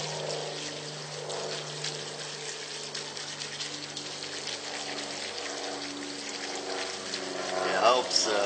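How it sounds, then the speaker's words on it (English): Water pours steadily over clay pellets in an empty plant pot, a continuous close gushing and trickling stream that swells briefly near the end, with no talk over it. "Okay, we're going to rinse our clay pellets."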